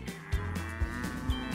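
Cattle on a ranch low with repeated deep, loud moos, three calls in quick succession, close to the listener.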